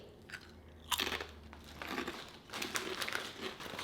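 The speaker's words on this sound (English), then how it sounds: "They are literally the crunchiest crisps I think I've ever had." Close, crisp crunching of Australian potato crisps being bitten and chewed, several sharp crunches in quick succession with faint crinkling between them.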